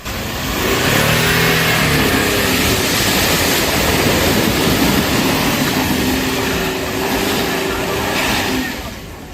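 A Porsche Cayenne's engine revs hard and holds loud and steady for several seconds while its tires struggle for grip on a slippery, muddy off-road ramp, then the noise eases off at the end.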